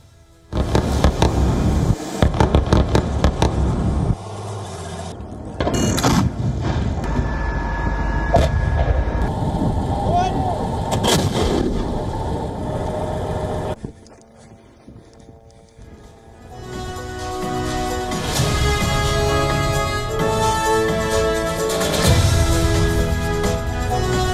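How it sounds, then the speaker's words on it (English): Gunfire from soldiers fighting in a hospital compound during a conflict, heard as loud, rapid volleys of cracking shots. Later the shots give way to a steadier, tonal background. "The clip shows soldiers in the hospital compound engaged in gunfights."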